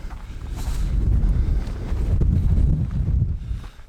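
Strong wind on a mountain hiking trail in Corsica buffets the microphone in loud, rumbling gusts that swell and ease across the moment, with no voices.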